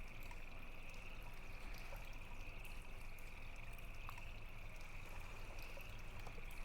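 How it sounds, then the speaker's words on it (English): Water runs in a continuous, faint trickling stream, steady and unbroken throughout, with no voices over it. "the sound of this fucking water is driving me insane"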